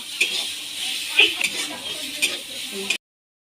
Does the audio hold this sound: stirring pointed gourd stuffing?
yes